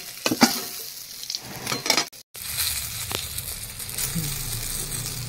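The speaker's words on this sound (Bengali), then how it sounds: "বেগুনটা ভাজা হয়ে গেছে, আমি বেগুনগুলো উঠিয়ে দেবো।" Eggplant pieces frying in oil in a karahi on a clay stove: a moderate sizzle with several sharp spatula scrapes and clinks, then a steadier bubbling fry.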